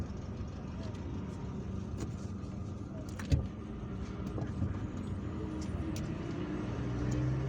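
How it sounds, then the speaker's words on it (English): Road traffic in central Algiers heard from inside a moving car, a steady low engine and tyre rumble with a brief thump and passing vehicles, someone speaking over it. "there is always traffic here because we are at the center of the town"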